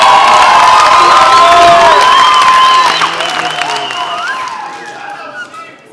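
A studio audience at a Kenyan TV comedy talk show bursts into loud cheering, clapping and shrill shouts and whistles, close and dense at first, then slowly thinning toward the end.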